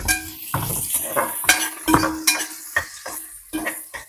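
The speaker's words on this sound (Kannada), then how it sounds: "ಈರುಳ್ಳಿ ಹಾಕೋತಾವಳೆ." Chopped onions go into a hot pan for veg pulao and are stirred with a utensil, bringing a steady sizzle under scraping, clinking strokes against the pan, close up and moderately loud, with no talking.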